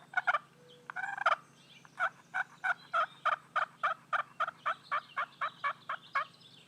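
A turkey slate call built from an old box turtle shell sounds a rapid string of about fifteen sharp, raspy yelps in steady rhythm, close and clear, after a few scratchy warm-up strokes.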